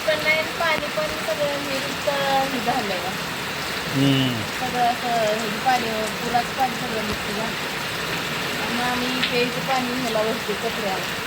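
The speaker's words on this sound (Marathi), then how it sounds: "इकडं बघेल तेवढा पाऊस चालू झाला आहे" Steady rain drumming on a tin roof, a dense patter throughout with faint voices talking in the background.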